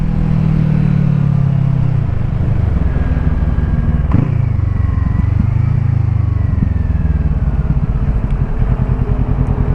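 A Kawasaki Z650 motorcycle rides through Bangkok streets at night, the engine loud and close, dropping from a steady drone into uneven engine-braking burble with a sharp blip midway and road noise throughout.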